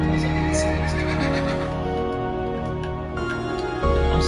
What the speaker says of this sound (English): I'm looking at my horsey right here.